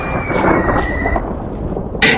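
Rain beats on a fisherman's leaking hut in a Hindi cartoon story as thunder rumbles low, with a brief high whine fading out and a sharp burst near the end.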